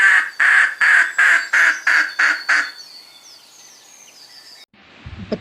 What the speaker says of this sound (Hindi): बतख के इतनी बुरी तरीके से चिल्लाने की आवाज़ सुनकर